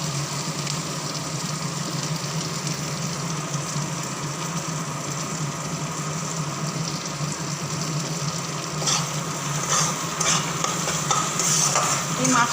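Fish curry cooking in a pan with ginger paste and cumin powder, a steady dense sizzle of frying under continuous stirring, holding even throughout with a few louder scrapes near the end.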